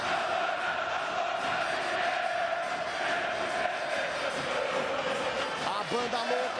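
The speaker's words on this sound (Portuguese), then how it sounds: "A torcida do Grêmio faz mais barulho em pleno estádio Fortaleza." Grêmio supporters chanting and singing together in a packed away stadium at the 2017 Copa Libertadores final against Lanús in Argentina, a dense, continuous roar of massed voices from a distance, with a commentator talking over it.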